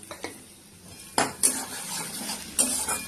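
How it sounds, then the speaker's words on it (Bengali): Ginger garlic paste frying in a pan for a Bengali koi fish curry, a low sizzle broken by a few sharp spatula scrapes and clinks against the pan, close up. "আদা রসুন পেস্ট দিচ্ছি, পেস্ট ভালো ভেজে নিয়েছি"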